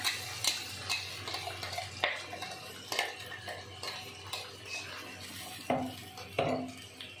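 Onion, ginger, garlic and green chili paste stirred in a cooking pan, with quiet irregular clinks and scrapes of a spoon against metal and a faint sizzle underneath.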